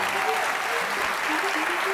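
A national science-talk final audience gives sustained, dense applause for a third jury prize winner. The clapping is loud, even and continuous throughout, with some voices mixed in.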